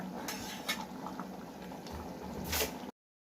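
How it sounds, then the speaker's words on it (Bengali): A pot of kachur lati (taro stolon) curry with moong dal bubbling at a steady boil, soft continuous burbling with a few louder pops, close by, before it cuts to silence. "ফুটে গেছে, আমি নামিয়ে নিচ্ছি।"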